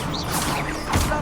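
The Incendio fire spell is cast in the Hogwarts Legacy video game: a brief whooshing burst followed by a crackling impact near the end, short and moderately loud.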